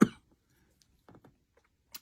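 One sharp, close cough bursts out at the start, then fades into near silence with a few soft murmured speech fragments and a brief click at the end.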